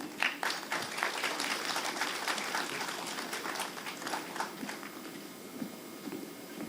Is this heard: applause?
yes